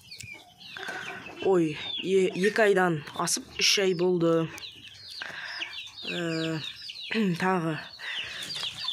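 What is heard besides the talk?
chickens and chicks clucking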